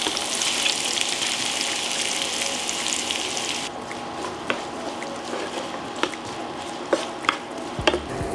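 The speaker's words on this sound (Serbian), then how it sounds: "Na ovom istom ulju propržit ću luk i šargarepu." Onion and carrot frying in oil, a steady loud sizzle that drops off partway, followed by quieter crackles and a few sharp clicks of stirring in the pan.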